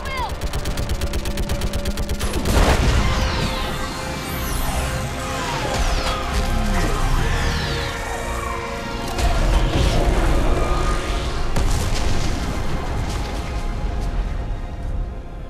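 Heavy sci-fi orbital strike artillery pounds a living Reaper in Mass Effect 3, a dense barrage of booming blasts and rapid gunfire-like bursts layered with whooshing effects, loud and continuous, with voices shouting over the din.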